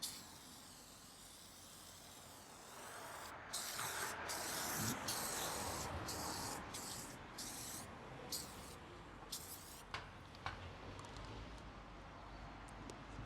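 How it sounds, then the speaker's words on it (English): A series of short, bright aerosol spray bursts, about eight quick hisses in a row, followed by a few fainter spritzes on a misty car headlight, close and fairly loud. "this spray is the magic sauce"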